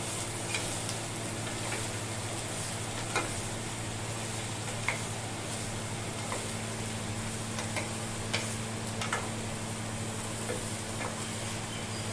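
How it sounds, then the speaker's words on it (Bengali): Onion fries in hot oil in a pan, giving a soft, continuous sizzle with occasional faint ticks and stirring taps, recorded fairly quietly without talk. "আস্তে আস্তে করে আমি পেঁয়াজটা এতে ছেড়ে দিচ্ছি পেঁয়াজটা লাল সোনালি মতো ভাজা হবে"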